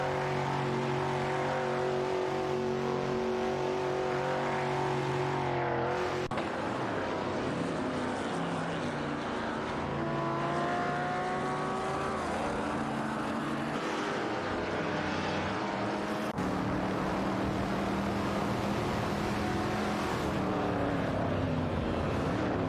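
Race cars, including Alfa Romeo Giuliettas, scream around the track in a racing game, with layered engine notes rising and falling through gear changes, steady and loud throughout.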